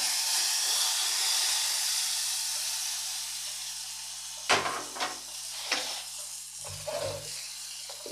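Hot tempering of asafoetida and curry leaves poured into chutney for masala dosa, giving a steady broad sizzle and hiss that fades, then a few sharper bursts of spitting as the oil hits, with no talk.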